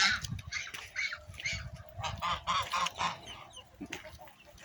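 Repeated loud honking quacks from young American ducks, close by and overlapping in an irregular chorus.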